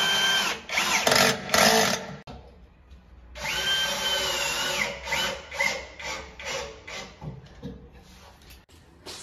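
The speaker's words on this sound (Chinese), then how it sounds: "从这儿拧个螺丝固定起来" A handheld power drill drives a screw during cabinet installation, whining in several short bursts and longer runs up close, with quieter handling noises between them.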